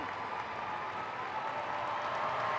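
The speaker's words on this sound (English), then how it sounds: "Big applause for the captain in LA" A stadium crowd in LA applauds the US women's captain, Lindsey Horan, as she is substituted off during a 2024 Concacaf W Gold Cup match against Colombia: a steady, dense wash of clapping and crowd noise that holds level throughout.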